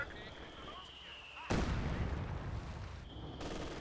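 A grenade blast and gunfire in the World War II strategy game Company of Heroes 2, bursting in loudly at mid-clip with a sustained crackle of explosion and shots, then tapering under a steady game hum.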